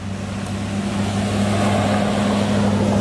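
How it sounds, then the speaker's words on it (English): Heavy trucks drive by on a big road near a house, a loud, steady engine rumble with a low droning hum that swells slightly as they pass, with no voices. "Really loud trucks driving by."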